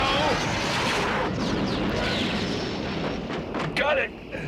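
A cartoon bomb explosion effect in a Transformers-style episode, a loud sustained roaring blast with rumbling debris that fills the whole stretch, with a voice briefly heard over it.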